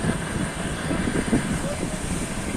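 A train rumbles steadily along a railway track, a continuous close mechanical roar with no distinct breaks.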